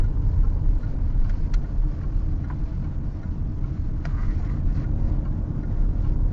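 A 2020 Range Rover Evoque P200 automatic drives at speed, its engine and road noise forming a steady low rumble with faint gearshift changes, heard close from inside the cabin without talk.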